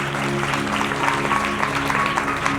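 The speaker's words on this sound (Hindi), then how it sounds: "जोर से ताली बजाओ, जोर से।" Church congregation clapping loudly during a lively anniversary worship celebration, a dense, steady wash of applause mixed with music tones and faint voices throughout.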